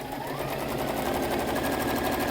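A sewing machine stitches fabric in a steady, loud, fast rhythmic whirr that runs without a break, close by and with no voices.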